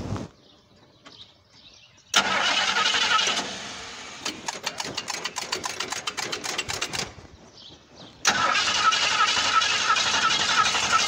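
A 1966 Ford Mustang engine cranks with a rapid stuttering starter rhythm, then catches and settles into a loud, steady idle, with a brief quieter gap between attempts.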